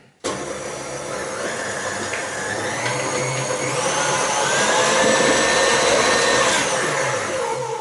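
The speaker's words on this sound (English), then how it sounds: "So 1 egg in, beat that in." An electric mixer beats an egg into cheesecake batter for a baked whisky cheesecake, a steady loud motor whir running throughout and rising slightly in pitch partway through, with no talking.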